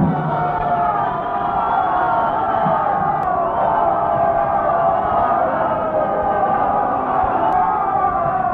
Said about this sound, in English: nice to hear lots of applause